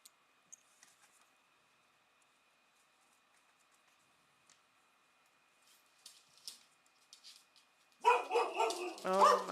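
Dogs at home bark, starting faint and sparse, then a loud burst of close barking and yipping in the final seconds.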